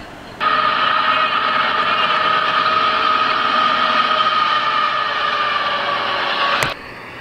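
CSX westbound freight train in Erie, Pennsylvania, sounding a loud, steady horn blast for about six seconds, close by and alone before it cuts off.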